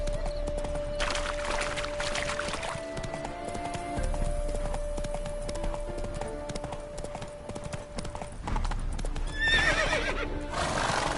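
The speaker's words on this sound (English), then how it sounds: "Spooking my horse." A horse in The Witcher 3 whinnies and clops its hooves, the neigh rising loudly near the end over steady hoofbeats and game ambience.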